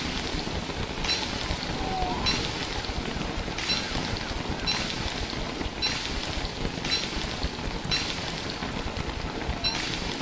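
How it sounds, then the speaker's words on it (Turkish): Steady, dense rain in the game Don't Starve: Reign of Giants patters on a surface throughout, a continuous hiss with rhythmic pulses of brighter noise every second or so. "Arkadaş ne yağmur ya?"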